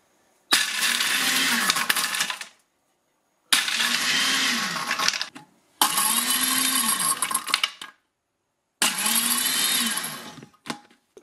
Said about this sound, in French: Et là on appuie sur glace pilée.